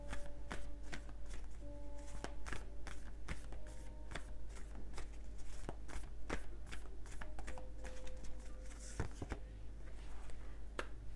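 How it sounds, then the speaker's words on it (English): Tarot cards being shuffled and handled, a busy run of soft riffling and tapping clicks, close and fairly quiet over a low steady hum. "Let's get one more card for you from your guides"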